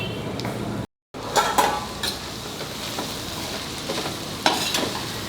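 Okra cooking on a slow flame in a pan for Bhendi Bhaji, with a soft continuous sizzle broken by scraping stirs and light utensil clinks against the pan, close by, with one brief dropout.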